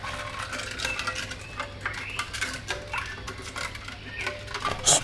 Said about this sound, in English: Stir the Soursop fruit juice drinks properly.